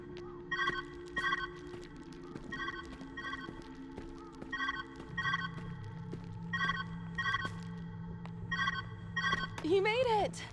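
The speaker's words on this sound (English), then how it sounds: "Where's that ringing coming from?" A telephone rings in a video game, repeating bursts of electronic trill in a steady pattern over a low ambient hum, with a short rising tone near the end.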